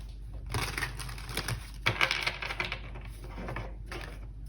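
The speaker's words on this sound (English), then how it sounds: "I'm going to shuffle these again, actually" Close, soft papery riffling of tarot cards comes in several short bursts with brief pauses between them, as they are shuffled by hand.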